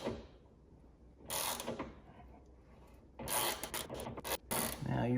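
A ratchet wrench tightens a bolt on the front window regulator of a BMW E46 convertible, giving faint, close bursts of quick clicking pawl ratcheting separated by quiet pauses.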